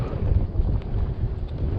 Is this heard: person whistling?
no